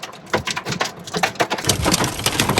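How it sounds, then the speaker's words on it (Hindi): A heavy hailstorm hammers down on a house, hailstones striking in dense, irregular bursts of sharp impacts, loud and close, swelling and thickening toward the end with no talking. "देखिए ओले कितने तेज ओले पड़ रहे हैं"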